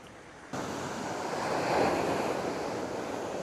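Ocean waves break and wash onshore at Sanchonpo beach in Korea, a loud continuous roar of surf mixed with wind rumble on the microphone, swelling briefly midway, with no voices.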